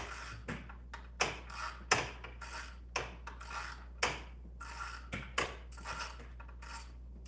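Metallic clicks and ratcheting taps recur at irregular intervals while bolts are worked out of an engine head, each sharp and close over a low steady hum.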